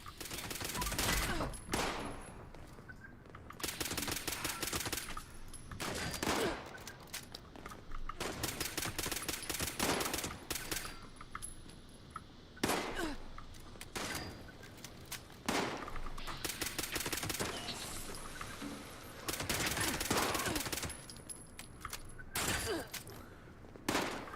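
Video game gunfire from a newly picked weapon, heard as repeated bursts of sharp, loud shots in clusters with brief pauses between volleys, close and dominant with no talking.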